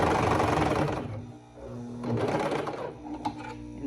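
Coverstitch sewing machine stitching fold-over elastic onto a triangle bikini top, a close, steady motor whir with a brief lull in the middle before it picks back up.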